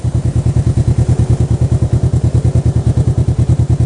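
A motorcycle on a country road leading to a reservoir, its engine thumping in a loud, steady, rapid pulse close by that holds even throughout.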